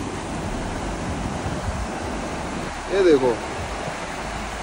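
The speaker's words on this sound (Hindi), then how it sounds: "उसकी पीछे ही बैक साइड पे इतनी ही प्यारी नदी बह रही है" A river rushes steadily behind a roadside breakfast stop in hilly country, a continuous broadband wash of flowing water, with someone briefly speaking over it midway.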